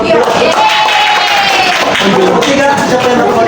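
A classroom group of students claps together for another student group, a dense, loud burst of hand clapping with some crowd noise and voices mixed in.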